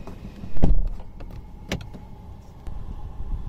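A 2021 Hyundai i20 Sportz door unlatches and opens with a sharp mechanical clunk, followed by a second click a moment later, close by and otherwise quiet.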